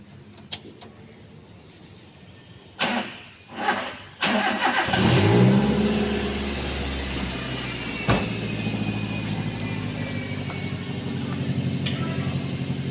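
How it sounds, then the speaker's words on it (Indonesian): A car engine cranks, catches and starts after a few clicks and knocks, then settles into a steady idle, fairly close, during a routine service on a workshop lift. "Kita hidupkan mesin dulu."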